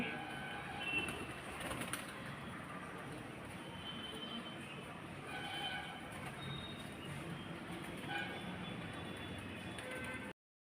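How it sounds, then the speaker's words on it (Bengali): Soft cooing of pigeons nearby over a faint, steady outdoor background hum, with occasional light rustling. "পায়রাগুলো চলে এসেছে গম খেতে।"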